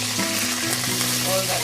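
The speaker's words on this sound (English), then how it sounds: "Let that sizzle." Crab sizzles and crackles loudly in hot oil, a dense steady hiss with faint stirring sounds, up close.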